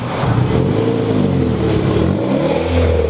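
A Nissan Skyline R33 engine revs close by with a rising turbo whine and blow-off valve, with no talking.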